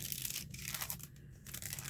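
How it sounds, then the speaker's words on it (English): Faux rice paper being squished between a window and a napkin gives a dry, crinkly crunching that rustles steadily for about two seconds, close and fairly loud, with brief quieter gaps. "It has a really wonderful crunch between the window and the napkin."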